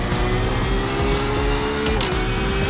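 A Porsche engine in a sim racing game drones loudly and continuously at high revs. Its steady tone shifts slightly in pitch as the car slides, with no talking over it.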